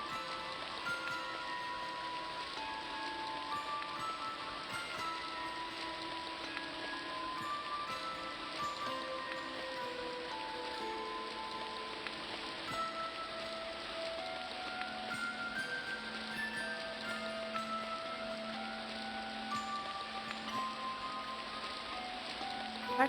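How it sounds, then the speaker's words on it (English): Steady, soft rainfall from the video game Silver Creek Falls, an even hiss that continues without a break, with faint tonal game sounds underneath and no talking. "we're just standing in the rain having this full out conversation"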